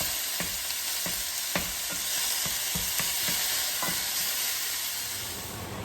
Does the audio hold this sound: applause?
no